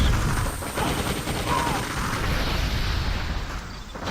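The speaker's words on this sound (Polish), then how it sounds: "Po prostu sobie coś wybucha koło mnie." Explosions and gunfire in the video game Just Cause, a dense continuous rumble of blasts and shots from a chaotic battle, loud and steady throughout, with a voice talking over it.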